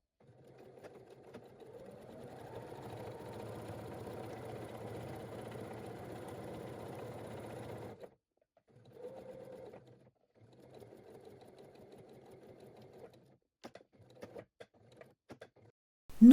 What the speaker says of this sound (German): Nun nähst du die Stoffe aufeinander, beginne an der Markierung und ende an der Markierung